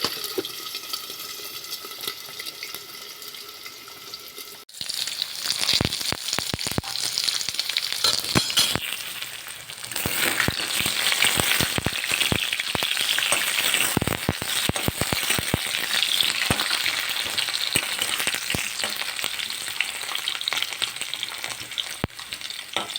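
Potatoes fry in a covered pan over high gas, giving a steady, loud sizzle with crackling pops that swells once the lid settles, continuing without any voices.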